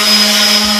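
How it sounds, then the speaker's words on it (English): A loud, steady electric motor whirs with a constant high whine, close up, as a random orbit sander runs without pause, lightly sanding a radiator cover. "I'm just using my random orbit sander"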